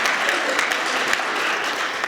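Dense audience applause at a live Hindi comedy show by Pratap Faujdar, a steady broadband wash of many hands clapping with no voices over it, sustained evenly for a couple of seconds.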